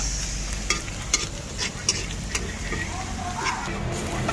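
Garlic sizzles steadily in a hot pan, a soft continuous crackle broken by a few sharp scrapes and taps of a spatula stirring it, close and fairly quiet.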